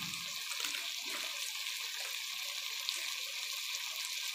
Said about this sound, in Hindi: थोड़ा सा पानी ऐड करते हैं ताकि मसाला गले ना